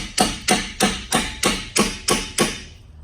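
A hammer taps a ball joint into a Jeep Patriot/Compass lower control arm, striking eight times in a steady, evenly spaced rhythm, loud and close.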